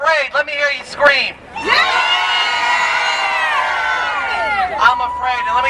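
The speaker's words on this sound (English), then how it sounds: "So if you're afraid, let me hear you scream." A crowd at a political rally about a hospital screams and cheers together, rising into a loud sustained roar of many voices for several seconds, with shouts at either end.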